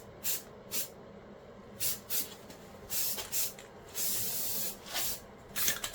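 Black spray paint hisses from an aerosol can onto truck shocks on a mini F150 build, a series of short close bursts followed by one longer sustained spray, with faint background noise between.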